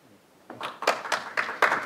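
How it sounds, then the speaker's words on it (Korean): Applause from the audience at a panel discussion on a GTX-D transit line, starting after a quiet moment as scattered claps that build into a moderate, uneven burst of clapping from a modest crowd. "네, 힘찬 박수 쳐주시고요"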